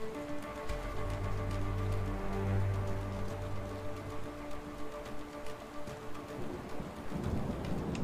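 Low thunder rumbles beneath steady rain in the video game A Way Out, swelling for a few seconds and then fading, with the downpour hissing continuously throughout.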